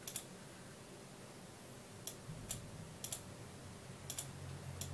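Sparse keyboard clicks in small bursts, a few sharp taps spaced about a second apart over a low background hum.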